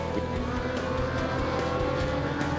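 Superbike racing motorcycles scream past on a British Superbike circuit, a loud, dense engine wail with quick revving shifts and passing whooshes, steady throughout with no talk.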